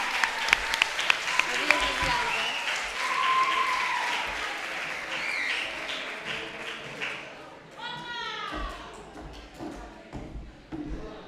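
Audience applause at a secondary school graduation ceremony in a hall, a sustained wash of clapping with a few sharp early claps, as voices call out and talk over it near the end.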